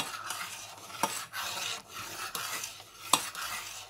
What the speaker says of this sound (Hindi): इसको बीच बीच में हिलाते रहना है